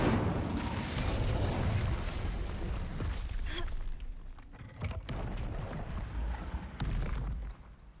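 A fire spell bursts with a whooshing, roaring flare in Hogwarts Legacy, a broad loud blast that rumbles on and fades over several seconds.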